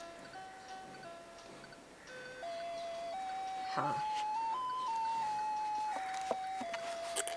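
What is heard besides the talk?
street vendor ringing a bell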